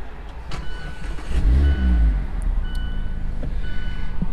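A 2017 Mazda Miata RF with a six-speed manual starts up, a brief cranking burst followed by a low idle settling in close by, with a faint beeping tone in the background.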